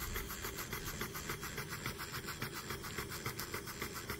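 A model beam steam engine runs with a rapid, even rhythmic chuffing and rubbing mechanical pulse, close and fairly quiet, with no voices.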